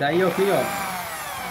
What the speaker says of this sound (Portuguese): Vou furando assim, ó.